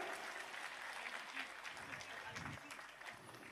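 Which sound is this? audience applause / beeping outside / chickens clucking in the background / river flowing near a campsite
audience applause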